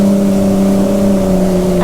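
A stand-up jet ski engine runs loud and steady under throttle, holding a strong droning note close by for the whole stretch, with a faint rise at the very end.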